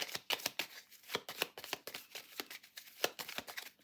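Tarot cards being shuffled by hand, a close, quiet run of crisp rapid riffling snaps and slaps in an irregular rhythm, with no voice.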